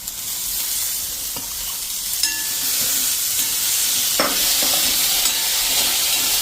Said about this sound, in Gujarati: આ રીતે 1 મિનિટ આપણે વઘાર સાથે જ વટાણાને મિક્સ કરતા રહેશું અને હલાવી લેશું